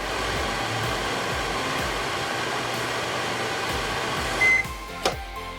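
A microwave oven heating marshmallows hums steadily with a constant whirring drone, ending with a couple of sharp clicks and beeps near the end.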